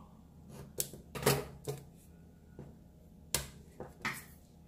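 Paper being cut for a planner at a table, heard as a quiet series of sharp, irregular clicks and snips from a close source, separated by soft pauses.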